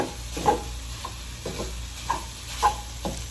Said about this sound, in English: And that's the mix and chop, and that is our Pampered Chef wok.